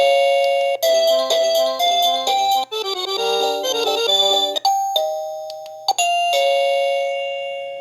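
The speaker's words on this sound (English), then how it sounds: "Also an option to change the chime alert." Chime alert tones from an XTU J7 Plus doorbell camera, several melodic electronic ding-dong tunes played one after another, each clear and loud with brief gaps between them and a ringing decay at the end.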